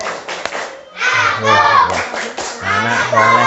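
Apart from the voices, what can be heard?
children clapping a rhythmic clap chant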